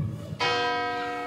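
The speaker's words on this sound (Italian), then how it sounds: "le campane sono la mia colonna sonora di questa campagna elettorale" Church bells strike loudly and ring on with a sustained, resonant hum, heard close and alone after a brief stretch of low murmur, during an election campaign closing in Italy.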